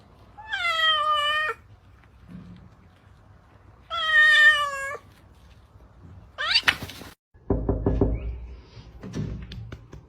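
A cat gives two drawn-out, strained meows a couple of seconds apart, then a short sharp cry, followed by a few knocking taps at the end; no talking.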